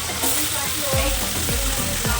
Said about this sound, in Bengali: মাছটা যতক্ষণ ভাজা হচ্ছে